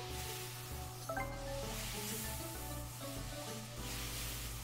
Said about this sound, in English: So the thing sizzles and then stops